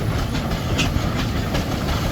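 A single-crank compound miniature steam engine rolls past at a steam parade at Tredinnick Rally, giving a steady, close mechanical rumble with faint rhythmic clanking.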